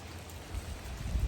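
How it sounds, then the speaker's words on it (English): Rain falls steadily outdoors during a storm, a dense, even hiss of drops building slightly in loudness over a couple of seconds, with no voices. "It's raining."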